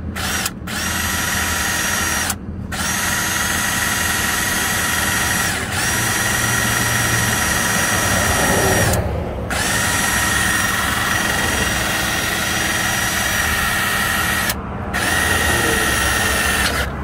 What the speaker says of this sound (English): now we're gonna go ahead and drill out the trailer.